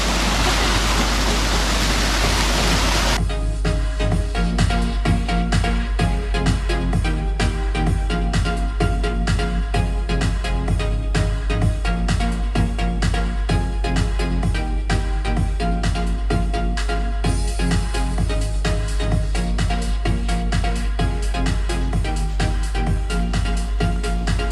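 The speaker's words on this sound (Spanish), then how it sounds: "Empezamos con estas hermosuras de cascadas del río." River waterfalls along the Bohilgues river trail near Ademuz give a loud, continuous rush of falling water for a few seconds before music takes over.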